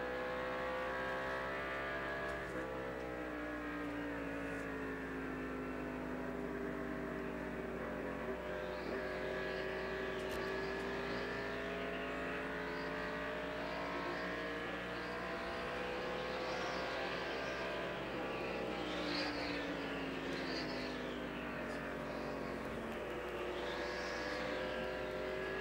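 Onboard NASCAR stock car engine at Phoenix Raceway in the 1988 Checker 500, a loud continuous roar with rising and falling revs as the driver lifts, brakes and reaccelerates through the turns, no talk.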